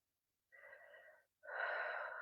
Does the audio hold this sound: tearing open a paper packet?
no